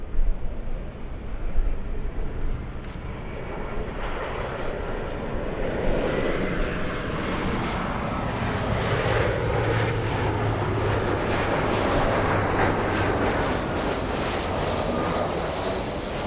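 A Southwest airliner departs LAX bound for Austin, Texas. Its engine roar swells and holds loud and broad for the whole span, then slowly shifts in tone as the aircraft passes, with no voices over it.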